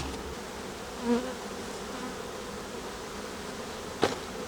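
Honey bees hum steadily around an open hive while brood frames are moved, a continuous close buzz with a couple of brief louder passes and a sharp knock near the end.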